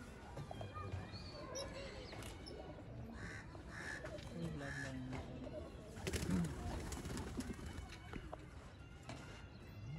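Soft Teddy pigeon coos and fluttering amid a busy rooftop loft, with people talking in the background throughout.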